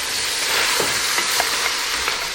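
Browned meat for a ragù stirred in a hot pan, a dense, loud sizzle with light scraping strokes from a utensil, close up.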